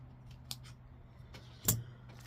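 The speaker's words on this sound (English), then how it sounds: "And we're going to cut it out. Just want me a square piece cut out of here." Scissors snipping a square piece out of craft material for a DIY project, a few quiet crisp clicks and cuts, one sharper snip near the end, close up against a faint hum.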